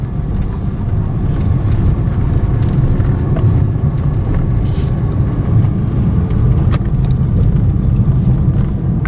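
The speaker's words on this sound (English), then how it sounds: "it's probably about a kilometer of steep climbing with curves, and it's just not enough power in this car." A car with too little power strains up roughly a kilometer of steep, curving road, its engine droning low and steady inside the cabin beneath constant rumble and wind noise.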